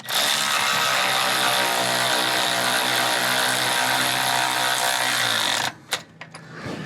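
An electric ratchet runs continuously for about five and a half seconds, whirring steadily while snugging the bolts of a Kelderman dual steering stabilizer on a Ford Super Duty, then stops with a few clicks and clunks.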